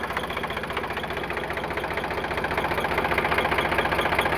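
An Eicher 368 tractor in showroom condition, with about 2900 hours and fresh engine oil, idles up close with a steady knocking diesel chug that grows slightly louder.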